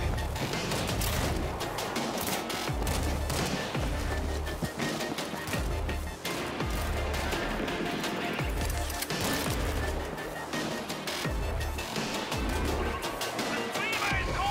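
Turret gunfire in the World War Z zombie shooter, a dense, continuous barrage of rapid shots layered over heavy low rumble and chaotic combat noise, loud and unbroken throughout.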